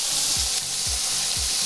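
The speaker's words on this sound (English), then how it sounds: "That is a lot of sizzle" Butter sizzling hard in a hot pan while a filet mignon sears, a steady bright hiss with three low thumps spaced about half a second apart, close and loud with no voices.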